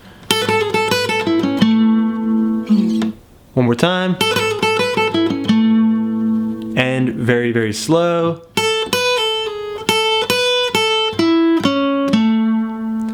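Lead guitar lick built from major arpeggio notes, played cleanly as a run of distinct picked notes, repeated slowly. A voice speaks briefly between the phrases.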